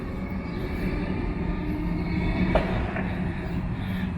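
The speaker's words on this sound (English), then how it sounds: "And that train was off to Frankston." A train departs Caulfield station for Frankston, a steady low rumble of rolling wagons and rail noise heard from the platform, moderately loud, with a faint squeal partway through.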